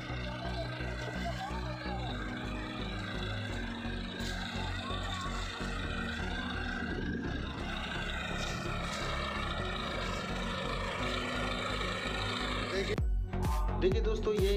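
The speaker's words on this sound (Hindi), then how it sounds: "ये पवन शर्मा जी ट्रैक्टर चला रहे हैं और आलूओं की खुदाई कर रहे हैं।" A tractor with a potato digger works a potato field, its engine droning steadily with a low rhythmic throb and mechanical rattle, loud and close throughout, shifting abruptly near the end.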